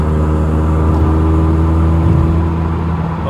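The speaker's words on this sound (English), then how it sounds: "If I pull this window down a little bit, you'll hear the exhaust." A 40-year-old Vauxhall Cavalier's exhaust droning steadily at cruise with a window lowered, the loud, close engine note echoing off a concrete roadside barrier, no talk.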